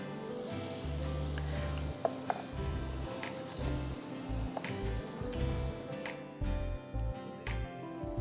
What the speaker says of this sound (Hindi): उनको भी हम फ्राई कर देते हैं।